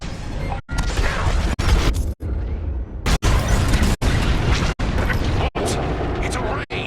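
Bombs exploding during a bombing run in the Star Wars Squadrons space-combat game, loud heavy booms and crashes repeating every second or so over a constant roar of engine noise, with voice chatter underneath.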